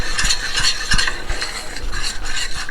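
A spoon stirs protein powder into egg white oatmeal with a close, continuous scraping and swishing, broken by soft knocks against the bowl in an uneven rhythm.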